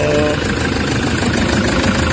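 A Toyota HiAce van engine with a check-engine fault and low power idles roughly up close, shaking and rattling with heavy vibration in a loud, continuous clatter.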